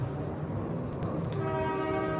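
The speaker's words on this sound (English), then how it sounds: "there's another black car and the train horns at the same time" A train horn sounds partway through, a sustained harmonic blast rising over rumbling rail traffic, moderately distant, with no talking.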